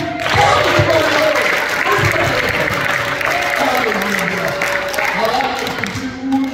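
Congregation applause at a Kinyarwanda-language church service in Louisville, Kentucky, a steady wash of clapping and crowd noise lasting throughout, with voices and singing-like tones mixed underneath.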